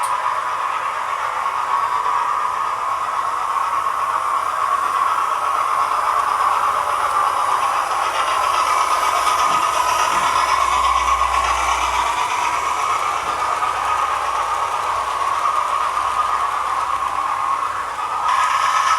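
A Hornby model locomotive, the largest of the session, runs on its track with a steady, unbroken whirring hum that stays even for the whole stretch, with no voices over it.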